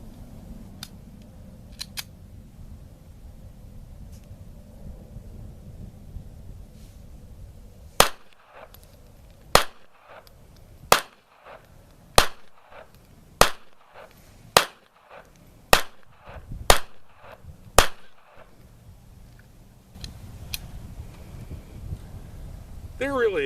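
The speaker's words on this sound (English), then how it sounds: "It is time for our third and final shoot with the French Ruby, so let's finish strong." A French Ruby .32 automatic pistol fires about eleven sharp shots at a steady pace of roughly one every one to two seconds. The shots ring out over quiet outdoor background noise, and the air is calm before and after the string.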